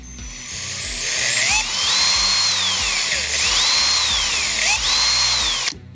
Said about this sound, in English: A variable speed drill is nice to have.